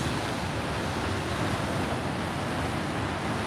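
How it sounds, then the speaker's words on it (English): Big ocean waves break on the Northern California coast, a constant heavy roar of surf mixed with wind buffeting the microphone, with no separate crashes standing out. "Well, that's some big waves kicking up there."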